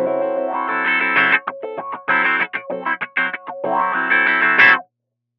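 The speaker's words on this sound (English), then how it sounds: "I've dropped in a teardrop 310 wah, and let's just hear how that sounds before the amp" A clean electric guitar runs through a Line 6 Helix Teardrop 310 wah ahead of the amp, playing chords and short stabs whose tone sweeps up and down in vocal wah shapes, fairly loud and alone.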